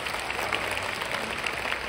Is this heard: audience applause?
yes